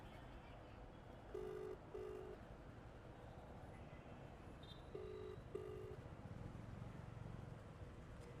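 An unanswered outgoing phone call plays on speakerphone, two double-pulse ringback tones sounding a few seconds apart, faint and steady over a low background hum.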